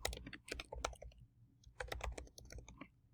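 Fingers type on a computer keyboard in two quick bursts of close, crisp key clicks separated by a short pause, quiet and with no talk.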